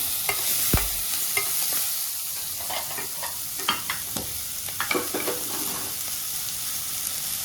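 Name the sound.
small onions sautéing in oil for potato bonda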